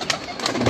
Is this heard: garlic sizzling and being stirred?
no